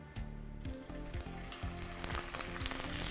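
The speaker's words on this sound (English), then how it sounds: "let's go ahead and drop in our salmon" Salmon drops into hot olive oil and sears with a loud, crackling sizzle that swells and stays dense, with a rhythmic low clatter from the pan close by.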